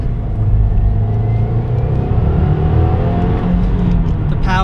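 A 2015 Subaru WRX Limited's engine pulls steadily under acceleration while driving, a continuous close, loud low rumble with rising tone and no talk over it.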